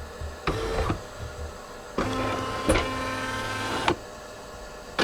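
A Brother PE770 embroidery machine tracing the outline of a design on a backpack, its motor whirring and whining in short close runs separated by quiet pauses, with small clicks as the hoop moves.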